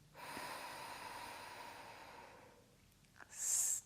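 A slow, soft inhale drawn through the left nostril during alternate nostril breathing, a gentle airy breath that fades, followed by a brief louder sniff of air at the end, close and quiet.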